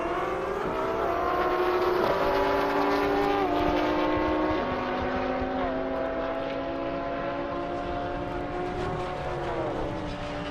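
Audi R8 drag racing down an airport airstrip, a sustained distant engine roar with rising pitch and gear shifts, heard steadily across the whole stretch without talk.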